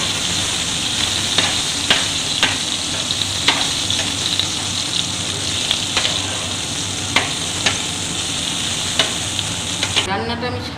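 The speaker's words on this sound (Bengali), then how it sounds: "এই কড়াতে তেল দিলাম, ফোড়নে আমি কালো জিরে দিচ্ছি" Black cumin seeds sizzle in hot white oil in a wok, a steady close hiss broken by scattered sharp pops and crackles throughout.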